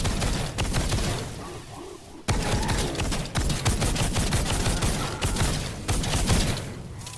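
Steady, rapid gunshots from a steampunk weapon in Fortnite Save the World, fired at a smasher enemy, sounding as a dense stream of shots with brief pauses and a small gap early on.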